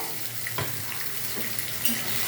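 A paste of fried onion, tomato and ginger-garlic, added for an egg curry, sizzles steadily in a hot frying pan, a close, even hiss with a brief sharper burst as it lands.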